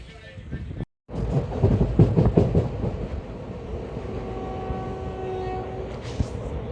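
The SMVT Bengaluru–Tirupati Intercity Express train rumbles and clatters as it pulls away from platform one, a long horn sounding steadily over the rolling wheels.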